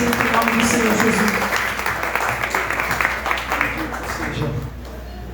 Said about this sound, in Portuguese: Aplauda mais uma vez e tome seu assento em nome do Senhor Jesus.